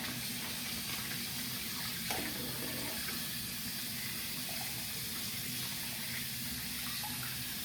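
Warm water runs steadily from a tap for a grooming rinse, an even hissing stream with no breaks and no talk throughout.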